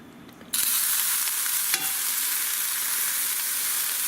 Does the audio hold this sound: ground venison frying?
yes